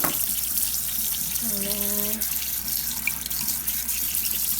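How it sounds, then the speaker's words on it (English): Water runs steadily from a kitchen tap over milk curds held in a strainer, a continuous close hiss and splatter, while a voice speaks briefly partway through. "I'm going to rinse out to try to get some of the little bits out."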